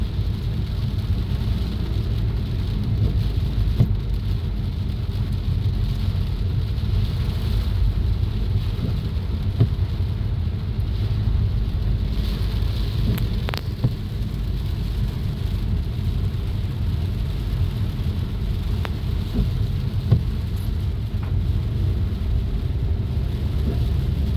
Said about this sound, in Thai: ซุ่มเย็นดีฝนตกแบบนี้